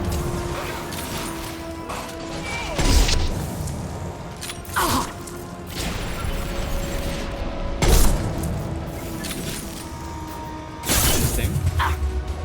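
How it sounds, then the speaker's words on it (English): Flashbang grenade detonating in Mass Effect 2 combat, heard as sharp booming bursts with crashing debris over a steady mechanical din, with several loud hits spaced a few seconds apart. "Just start with flashbang"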